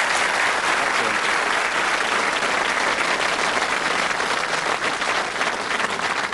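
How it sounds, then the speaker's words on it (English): A game show studio audience applauds warmly, dense sustained clapping from many hands, loud and even throughout. "Give our contestants a warm round of applause."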